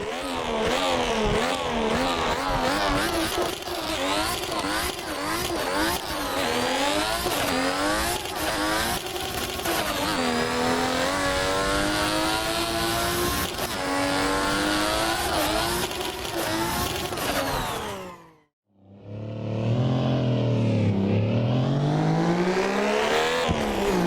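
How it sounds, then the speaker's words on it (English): A 1JZ engine soundmod in a video game revs hard through the gears with turbo whine and a blow-off valve, long rising and falling engine pitch, a short gap, then another loud rev, with no voices. "The turbo noise and the blow-off valve fits the character of the sound"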